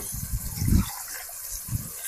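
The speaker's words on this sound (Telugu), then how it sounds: "ఇదే మిక్స్ గిన్నెలోనే ఒక గ్లాస్ నీళ్ళు అయితే పోస్తున్నాము" A glass of water is poured into a pan of spinach, making a low, gushing splash up close that comes in a couple of bursts, with no talk.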